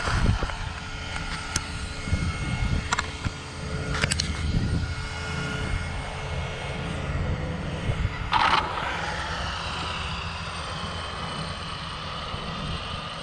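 An Arrma Infraction RC car on a speed run pass roars by on a road, a loud engine-like whine that builds and sweeps past near the middle, with a whooshing tail as it fades away.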